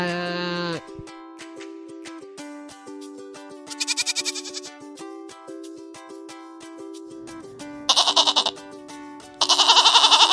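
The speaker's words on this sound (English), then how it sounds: "Goat." A goat bleats in several loud, wavering calls against a steady background of cheerful music.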